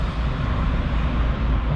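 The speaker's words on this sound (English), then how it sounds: "Sorry for the traffic noise." Steady road traffic rumbles and drones close by outside a Harley-Davidson dealership, a continuous low wash of passing vehicles with no voice over it.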